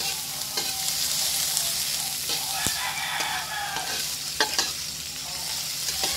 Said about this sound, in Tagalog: Mag-isa ka lang ng bawang, sibuyas. Tapos, gigisahin mo lang yan.